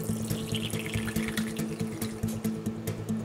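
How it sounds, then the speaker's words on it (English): A full cup of rubbing alcohol is poured into a container for a strawberry DNA extraction: a steady, close liquid stream with soft gurgling pulses and splashes throughout, with no voices. "I'm gonna pour it in right now."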